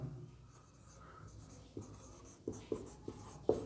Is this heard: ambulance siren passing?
no